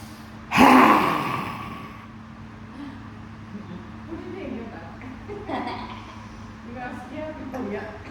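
A person does a forceful yoga breathing exercise with the tongue out, letting out one loud, sharp exhale followed by quieter, rougher breaths and faint breathy sounds.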